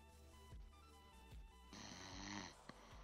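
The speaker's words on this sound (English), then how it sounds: "I hear snoring." A sleeping person snores in slow, rasping breaths, faint and fairly close, with no talking.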